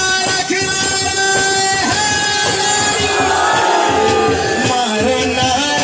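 A large crowd chants religious slogans in unison in response to a leader's call, loud and dense with overlapping voices and rhythmic shouted phrases throughout.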